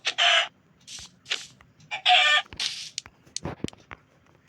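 A Minecraft chicken clucks and squawks in short, loud bursts with brief pauses, close and alone, with no talking.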